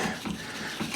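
A ratchet clicks rapidly while loosening a nut on car suspension during a lowering spring install, a quick close run of mechanical ticks lasting about a second.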